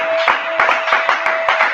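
A church congregation claps along in a steady rhythm, sharp hand claps landing roughly every third of a second over a sustained tone in the room.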